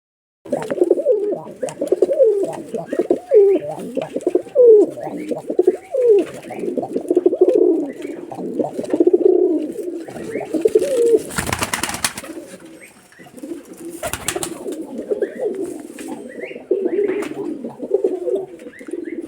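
Domestic pigeons coo steadily and close by, among them a white-and-green male Giribaz pigeon from Rajshahi kept for flying, with two brief loud bursts of noise cutting in partway through.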